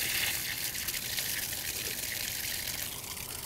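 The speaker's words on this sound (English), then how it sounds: "You're gonna open up your outside faucet." Water gushes steadily from an opened outside faucet as the house supply drains, a constant hissing splash of moderate loudness with no voices.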